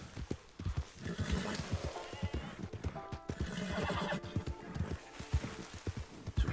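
A tired horse in the video game Red Dead Online whinnies and snorts over steady hoof clip-clops, close and fairly quiet, with faint talk in the background.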